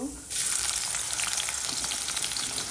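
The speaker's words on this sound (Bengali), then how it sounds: "এখন ঢেঁড়স ভাজিতে পেঁয়াজ দিয়ে দেব" Okra and onion sizzling in hot oil in a wok, starting quietly and then bursting into a loud, steady crackling hiss as the onion goes in, continuing close up without talk.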